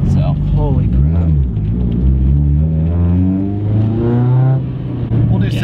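A 900-plus horsepower, 55 psi turbocharged Mitsubishi Evo 9 race car pulls hard through the gears, its loud, close engine note rising in pitch through each shift before settling, with a rumbling roar throughout.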